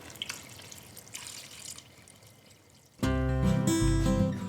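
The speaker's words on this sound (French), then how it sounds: "Alors, on va couvrir à hauteur d'eau." After a few faint clinks, water suddenly pours loudly and steadily into a pot of chopped vegetables and stones, filling it to cover them for a soup cooked on a wood stove.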